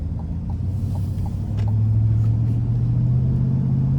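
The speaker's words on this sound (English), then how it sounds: "You just get a nice beefy, muscular sound as you're driving this thing down the road." The 6.2-litre V8 of a 2025 GMC Sierra 1500 Denali Ultimate in sport mode gives a deep, steady rumble from the engine and exhaust. It swells slightly as the revs climb under way, heard from inside the cab with no talking.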